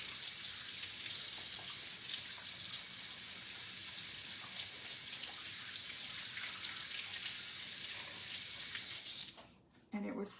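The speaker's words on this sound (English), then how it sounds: "let me wash my hands real quick" Tap water runs steadily into a sink while hands are washed, a continuous broadband splash that stops abruptly near the end; a faint voice is briefly audible underneath.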